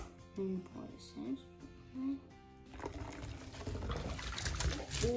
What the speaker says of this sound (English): So now I can take the funnel and pour this in.